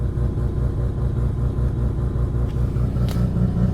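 A car with an 8HP automatic transmission in manual mode rolls slowly in circles, its engine giving a steady, close low rumble with a faint brief tick partway through.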